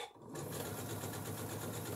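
A home sewing machine runs steadily through printed cotton fabric with lengthened stitches, a close, even mechanical whir that starts after a brief pause and continues alone.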